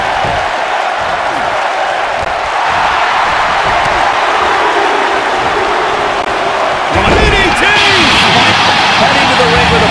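Arena crowd in a WWE 2K19 Royal Rumble match, a loud steady roar of spectators counting in unison, rising toward the end with a sharp cheer, under commentators talking.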